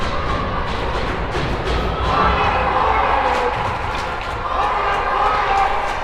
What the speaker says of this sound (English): Gotta love this crowd participation.